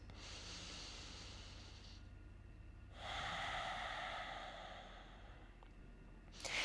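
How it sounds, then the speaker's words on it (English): Two slow, deep breaths taken during a seated chair yoga stretch with the head bowed, chin to chest, each a soft airy inhale-exhale, close and fairly quiet, with no talking. "2 big breaths."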